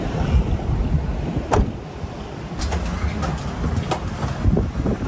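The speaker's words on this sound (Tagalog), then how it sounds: "Hangin." Wind gusts across the microphone outdoors, a steady rumbling buffeting noise with a few brief louder bursts, while faint voices are heard in the background.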